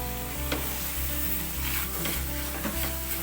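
Aloo palak, potatoes and spinach seasoned with black pepper, sautéed in a pan, giving a steady close sizzle with regular scraping strokes of a spoon roughly every half second, and no voices.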